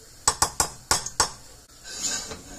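Bacon lifted out of a pot with a metal utensil for a potato broccoli cheese soup, giving five or six sharp clinks and taps against the pot in an irregular rhythm, followed by a softer scraping rustle.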